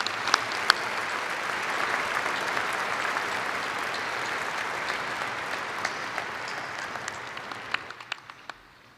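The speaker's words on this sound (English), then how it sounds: "One more round of applause for Betty and Cy Robin." Sustained, full applause from a large university commencement audience honoring Betty and Cy Robin, steady dense clapping for several seconds before tapering off with a few last claps.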